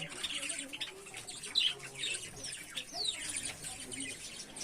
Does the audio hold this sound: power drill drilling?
no